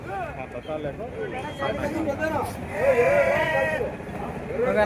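Sheep bleat repeatedly, near and overlapping, amid a crowded livestock market at Gudur, under a background of people chattering and talking.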